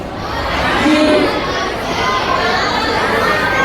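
Noisy chatter of many children filling a school audience, a dense, steady crowd babble with scattered shouts, loud and close throughout.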